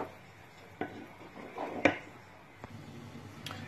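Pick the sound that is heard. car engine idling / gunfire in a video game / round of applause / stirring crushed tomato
stirring crushed tomato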